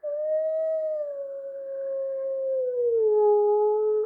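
A person imitates a wolf howl, moving the lips while holding a single long, smooth, sustained tone that slowly drifts lower in pitch, close and clear with no other sounds.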